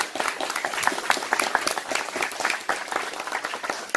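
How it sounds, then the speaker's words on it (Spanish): An audience claps steadily for a sculptor at a public ceremony, a dense, continuous round of applause that holds at an even level throughout with no voices over it. "Pido para él un reconocimiento por medio de un aplauso"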